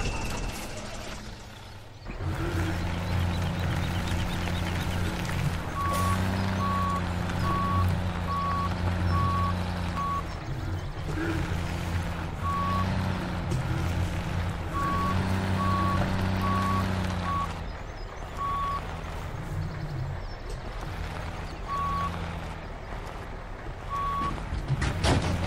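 A John Deere vehicle in the Farming Simulator 17 video game drones with a steady, loud engine. Repeated reversing beeps sound in regular bursts over the engine, with no talking.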